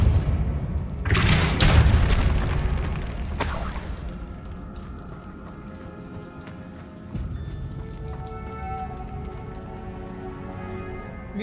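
Spell effect from the Hogwarts Legacy video game: a sudden loud whooshing burst with a booming crash that fades into rumbling and rattling, followed by quieter game ambience.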